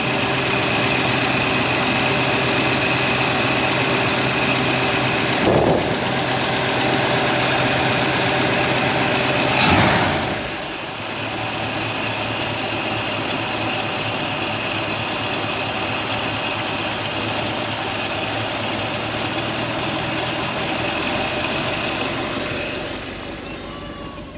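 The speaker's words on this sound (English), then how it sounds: "we're going to adjust our idle back down to where we want it." A Ford 352 V8 in an F250 truck idles steadily nearby with a rough, rumbling throb. Around ten seconds a brief rev and a click are followed by a slightly lower, settled idle.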